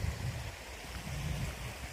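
A river flows beside the Kennett River Nature Trail, a soft steady rush of water with a low rumble, faint and continuous, with no voices.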